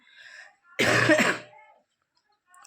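A person, feverish with a phlegmy cough, clears the throat in one harsh, close burst after faint breathy sounds, then falls quiet.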